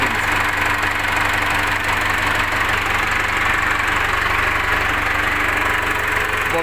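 A Case International 695 tractor's diesel engine, just repaired, idles nearby, a loud, steady, low chugging rumble with a continuous mechanical knock and vibration throughout.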